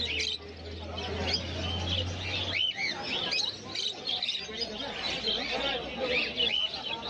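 Pineapple conure parrots and other caged birds at a pet market in Uluberia, chirping and calling in busy overlapping bursts over a continuous low hum, with people talking in the background.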